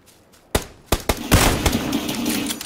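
Several gunshots ring out in the video game PUBG: a few sharp separate reports, followed by a denser burst of fire that trails into a lingering rumble. No voices are heard.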